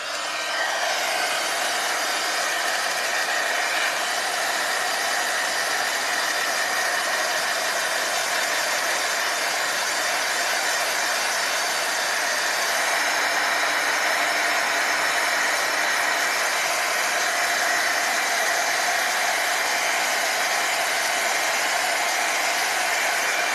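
A heat gun runs steadily for the whole stretch, drying a fresh coat of paint on a snowman craft project, with a constant loud whooshing airflow and a faint fan whine and no talking over it.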